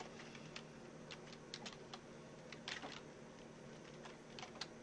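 Light typing on a computer keyboard while entering text for a sign, quiet irregular clusters of key clicks with short pauses, close and alone over a faint room hum.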